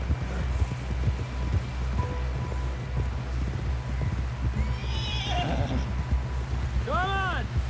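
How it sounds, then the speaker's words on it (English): A horse's hooves clatter at a gallop under shouting voices in the video game Red Dead Redemption II, then the horse whinnies loudly near the end. "Someone help John down off this horse"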